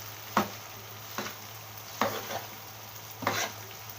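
Alexandrian-style pasta with sausage, peppers, tomato and onion in sauce gets stirred in a pan: four distinct spoon scrapes a second or so apart over a low, steady simmering sizzle.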